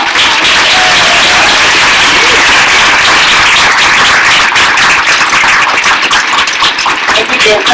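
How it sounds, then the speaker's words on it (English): An audience at a Black Lives Matter panel event gives a loud, sustained round of applause that fills the whole stretch, dense and close, with some crowd noise mixed in. "Let's give them a round of applause."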